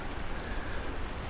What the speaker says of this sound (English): Oh, the rain. I'm actually outside.